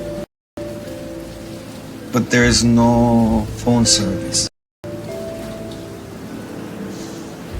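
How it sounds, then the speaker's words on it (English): Steady rain hisses throughout with strong wind in a storm while a person speaks over it, the downpour continuing before and after the voice. "There was too much wind and rain."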